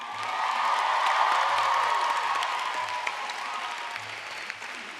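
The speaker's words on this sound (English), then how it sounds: "I think you guys should really give yourselves a loud round of applause" Loud applause from a large crowd of graduates at a graduation ceremony, dense clapping that swells and then holds steady, with a few scattered cheers.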